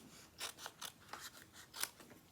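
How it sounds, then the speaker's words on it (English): Sharp paper-crafting snips cut through paper in a quiet run of about six or seven crisp, separate snips, close and fairly faint, with no talking. "If you don't have a pair of snips, I really recommend them."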